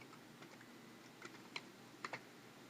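Quiet typing on a computer keyboard, a few scattered soft key clicks with a couple of sharper taps near the end, close and alone against low room hum.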